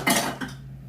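A metal double boiler is set down in a kitchen sink with a sharp clank followed by a smaller second knock, leaving a brief metallic ring close by.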